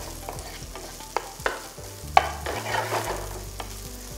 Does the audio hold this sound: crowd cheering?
no